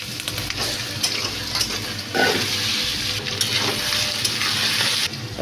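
Potato pieces fry in hot oil in a pan with cardamom, cloves, cinnamon and dried chilli, a steady close sizzle with periodic scraping stirs.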